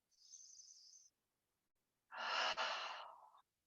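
A slow, deep breath during a meditation session: a soft airy inhale, a short pause, then a longer, fuller exhale, close and quiet with nothing else around.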